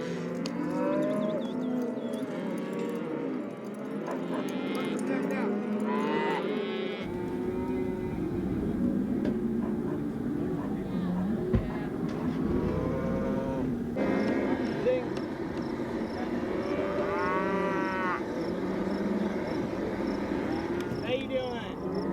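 Cattle and calves on a ranch during calf branding, repeated mooing and bleating calls near and far, with people talking throughout.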